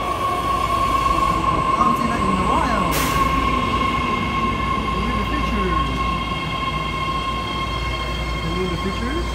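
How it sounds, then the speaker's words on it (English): A new 7-car Richmond train sits at the platform with a loud, continuous rumble and a high steady tone, wheels squealing briefly and a sharp burst partway through. "pick up with the new 7 car Richmond train"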